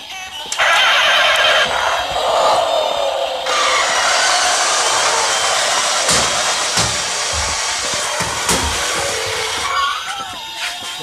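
The 500 HP Dodge Viper Hemi race car roars in a racing video game, a loud, sustained engine howl with shifting pitch and revving.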